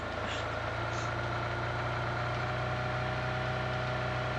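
Car engine idling in the mobile battle royale game PUBG Mobile, a steady low hum that holds throughout with faint game sounds above it.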